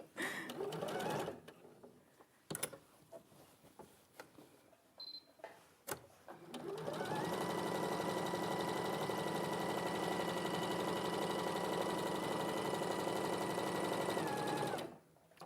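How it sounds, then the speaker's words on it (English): Sewing machine stitching a small straight stitch along a line while piecing fabric: a few seconds of handling noises, then a steady fast mechanical whirr and rapid stitching run for about eight seconds before stopping. "So I'm stitching on the line, quite a small stitch"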